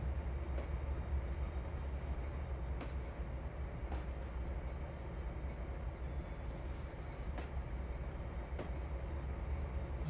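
A train in the game Trainz 2022 rolling along, a low steady rumble with faint periodic clicks of wheels over rail joints, even and moderately quiet throughout; no talking.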